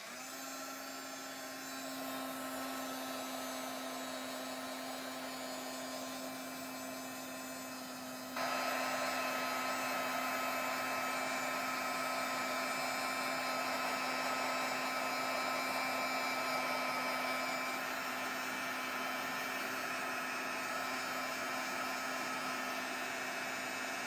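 A heat tool dries paint on a mixed media tag, a loud steady blowing roar with a constant hum that steps up louder partway through and runs on unbroken, with no talking.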